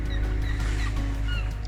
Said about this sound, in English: See the seagulls all around the boat,